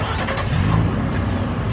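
A car engine rumbles low and steady at a car meet, its exhaust swelling briefly into a throaty rev before settling back to idle.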